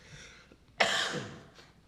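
A single harsh cough or throat clearing from a council member in a city council meeting, close and sharp, followed by quiet room tone.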